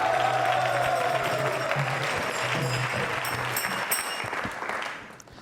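An audience at a Hare Krishna Mission quiz show on Sanatan Dharma claps in a steady, dense burst of applause that fades out near the end.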